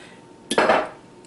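Breaded pork chops with a Parmesan coating are shaken in a container, giving one brief, loud rattling burst that fades quickly, with no voices.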